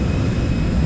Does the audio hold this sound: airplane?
yes